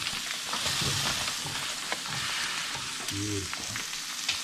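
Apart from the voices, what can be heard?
smoked venison sausage frying in a pan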